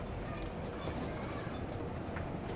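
Young racing pigeons of a foreign bloodline in a loft coo and stir steadily under a busy, noisy background, with a low voice faintly present.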